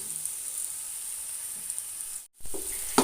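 Ghee and Dalda sizzle steadily in a hot pan for prawn rice, a constant close frying hiss that cuts out briefly near the end before resuming louder.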